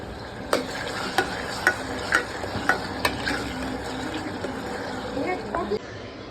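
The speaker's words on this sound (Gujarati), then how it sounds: "મસ્ત મજાની ભાજી વઘારી નાખું" A vegetable bhaji with grated ginger is being tempered in hot oil, with repeated sharp spoon clanks against the pan at a steady beat over a soft sizzle.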